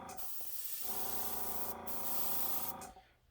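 A steady hiss of a spray paint can spraying paint onto a homemade fishing bait continuously for nearly three seconds, briefly interrupted, then cutting off into near silence.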